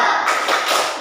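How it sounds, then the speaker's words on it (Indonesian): A classroom of students stands and claps together in a spirited rhythmic cheer, giving a short, dense burst of hand claps that stays close and loud for about a second. "Bapak pengen kalian nanti ikut tepuk semangat ya."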